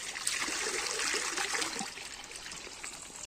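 Spring water trickles and splashes steadily at close range along a hillside road, a continuous bright gurgling stream with no voices over it.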